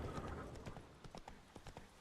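Horse hooves clip-clopping in a steady walking rhythm, a series of distinct, fairly close hoof strikes on hard ground against a quiet background.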